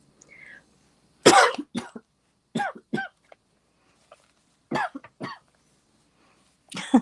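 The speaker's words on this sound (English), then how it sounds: "Sorry, I had to cough." Several harsh coughs and throat clearings come in short separate bursts with quiet gaps between them, close and fairly loud.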